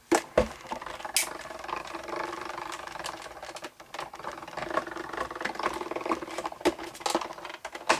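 A foil embossing machine runs steadily with a mechanical rattling whir, close and fairly loud, carrying on alone for the whole stretch with sharp clicks near the start and bursts of brighter clatter throughout.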